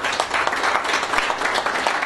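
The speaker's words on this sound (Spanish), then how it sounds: "Un aplauso para el doctor Fontalvo." Audience applause at a criminology and victimology panel discussion, a dense, steady wash of many hands clapping that holds fairly loud and even throughout without voices over it.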